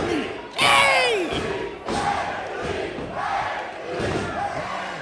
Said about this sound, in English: Crowd is on top of their game here tonight.